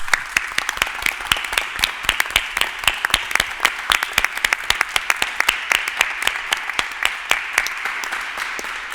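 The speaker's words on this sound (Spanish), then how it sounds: "este aplauso para vosotros y muchas gracias" Audience applause at a European Researchers' Night event, dense steady clapping from a crowd, close and lively throughout without pause.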